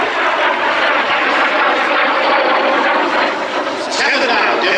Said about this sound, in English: demonstrating the minimum radius turn of the L-39